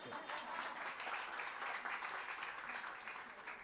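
An audience at a water purification and sustainability initiative launch gives a brief round of applause, a steady, fairly faint patter of many hands with no voices over it.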